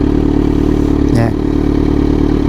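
Kawasaki Z900 motorcycle engine idling steadily up close on a drizzly day, a constant mid-pitched hum with a brief rise around the middle and no talk.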